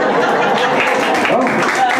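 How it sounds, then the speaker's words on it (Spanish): Applause and clapping from a crowd at a family celebration, a dense, continuous wash of hands mixed with voices and chatter. "¡Aplauso!"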